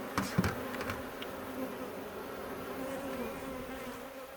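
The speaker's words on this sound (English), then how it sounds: "Oh, you little angry guard bees at the front door." Honey bees guarding a hive entrance buzz angrily, a soft, steady drone with a few louder close passes by individual bees near the start, all fairly faint and without voices.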